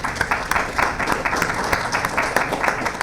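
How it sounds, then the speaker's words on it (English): An audience at an arts festival talk claps steadily, with individual hand claps standing out in the mix, at moderate loudness for a few seconds. "Can we give them a round of applause"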